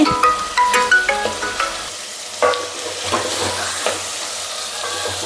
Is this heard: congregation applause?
no